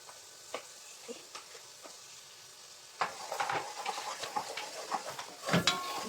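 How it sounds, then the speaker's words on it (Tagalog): Garlic frying in melted butter in a pan for buttered shrimp, a soft steady sizzle that thickens after a few seconds, with occasional stirring clicks and scrapes close by. "Hintayin natin mag-brown ang ating bawang."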